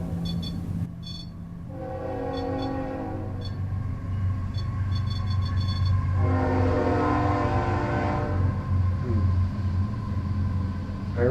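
A train rumbles past close by, its horn sounding in several long blasts over the steady roar of rolling cars, near a hotel in Cisco, Texas.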